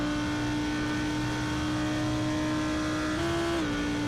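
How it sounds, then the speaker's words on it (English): GT3 race cars on the Hockenheim straight in a sim racing game, a steady droning engine tone that holds then rises briefly near the end, distant and continuous with no talking. "you can still hear the cars going down the straight on the right-hand side"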